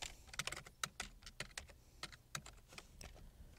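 Fingers typing on a computer keyboard, an uneven run of crisp close key clicks with brief pauses between bursts, with no talk.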